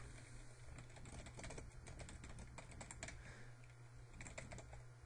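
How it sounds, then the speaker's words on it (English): Keys clatter on a computer keyboard as a title is typed, quick irregular bursts of clicks at close range with brief pauses between words, faint and alone. "And then here you'll type the title."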